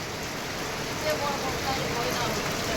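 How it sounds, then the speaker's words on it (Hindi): Heavy monsoon rain in Sambalpur falls as a steady, dense hiss of drops, close and constant throughout. "बारिश हो गया मेरा मोबाइल भी भीग जा रहा है"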